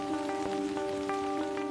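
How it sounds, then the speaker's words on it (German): Heavy rain pours in a forest, a faint, even patter of drops on surfaces with a steady tonal hum underneath throughout. "Wenn es im Wald in Strömen regnet"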